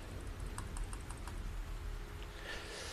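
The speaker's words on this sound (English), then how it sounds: "I'm double clicking." Computer mouse double clicking during Black Mirror gameplay: several quick, sharp clicks, some in close pairs, over a low steady background hum, with no talking.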